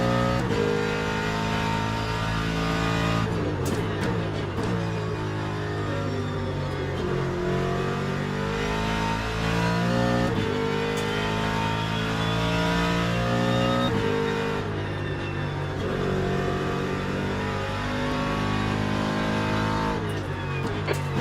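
A Porsche GT race car engine in the Le Mans Ultimate racing game revs loudly and continuously, with the pitch rising and falling through gear changes over a steady road-noise bed.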